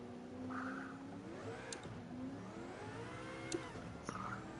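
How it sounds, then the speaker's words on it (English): A Group C race car engine revs in the Gran Turismo 7 video game, rising and falling in pitch through several throttle sweeps and gear changes, heard fairly quietly without talk. "It's such a good sounding car."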